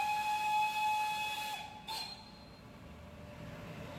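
A steam locomotive on the Nilgiri mountain railway, the Beta Queen engine, hisses and whistles as it prepares to start. A steady tone is followed by a short burst of venting steam, with a low rumble beneath, heard alone.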